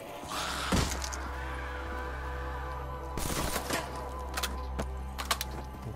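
Bursts of SMG fire in the Zombies mode of Call of Duty: Black Ops III, quick crackling rattles over a steady low game drone, one short burst early and a longer run of shots later.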